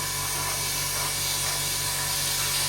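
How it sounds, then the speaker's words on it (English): Paint spray gun hissing at high air pressure, a steady, continuous broadband spray held at an even loudness throughout, with no voices. "I'm spraying this quite a high air pressure because we want a little bit of texture"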